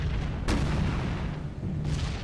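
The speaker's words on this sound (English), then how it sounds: "Or at least a very close explosion, I should say." A close explosion bursts near a B-17 bomber in a World War II flight game, heard as a sharp boom at about half a second over constant low engine drone, with a second swell of blast noise near the end.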